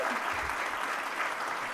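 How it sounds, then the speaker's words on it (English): Audience applause for keynote panelists at an energy forum, a steady dense clapping that fills the whole short stretch at moderate level with no voices over it. "Give our panelists a round of applause, please, and thank you so much for being here."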